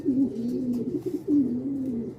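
Racing pigeons at a derby race, a close, clear low coo repeated in two drawn-out phrases with a short break between them, alone without talk.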